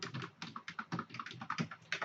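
Rapid typing on a computer keyboard, a steady stream of close, crisp key clicks in an uneven rhythm with occasional heavier strokes, no talking.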